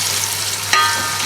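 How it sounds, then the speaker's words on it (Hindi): Chopped onions frying in hot oil for aloo masala rice, a steady soft sizzle with a brief louder crackle midway as they are stirred, close and alone. "पहले हम इसमें अपने अनियन ऐड करते हैं।"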